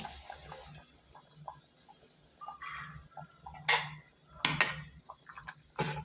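A spoon stirs vegetarian khichuri in a cooking pot, with light metallic scrapes and clinks at an irregular pace. A few louder clanks and scraping bursts come near the end over low background hum.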